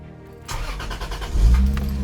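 A car engine cranks and catches, rising into a steady idle with a low rumble, close by and without talk.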